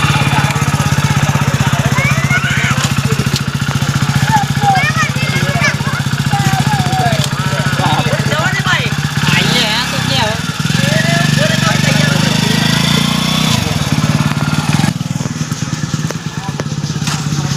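A motorcycle engine runs steadily close by, its rough putter and rumble continuing throughout while people talk and call out over it.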